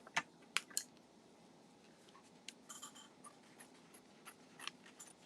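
Scissors snipping out a holly-and-berries design from a gold foil transfer sheet, a few quiet, sharp crisp cuts near the start followed by scattered softer snips and rustles.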